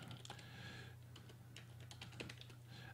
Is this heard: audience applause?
no